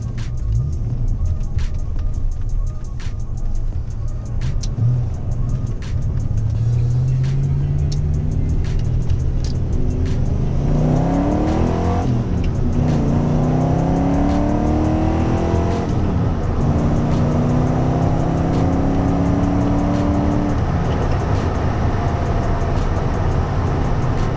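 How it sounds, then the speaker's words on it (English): A Ford Fox-body Mustang with an 8.8 rear axle pulls hard onto a highway, heard from inside the car: the engine's steady drone climbs in pitch through the gears and drops briefly at each shift, loud and continuous, with no talking. "we'll do a little bit of a harder pull out onto the highway here"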